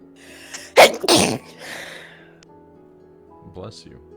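A sharp sneeze cuts through a Final Fantasy XIV game scene, with a quick breathy intake leading into a loud double burst, then a faint low hum of game ambience and a short murmur afterward.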